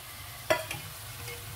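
Mushrooms go into a pan of golden fried garlic, bringing a soft steady sizzle with a single sharp clatter of the utensil near the start.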